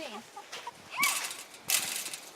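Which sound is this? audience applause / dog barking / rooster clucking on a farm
rooster clucking on a farm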